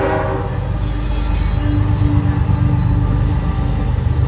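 A train passes close by, its loud rumbling wheels and rail noise dominated by a sustained horn blast throughout.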